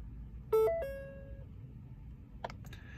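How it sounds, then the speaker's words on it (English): A Ford Focus Mk3 instrument cluster runs a chime test: a few short electronic warning chimes and tones sound in quick succession, followed by faint beeps over a low hum. "the chime test with all the different warnings sounds that your car"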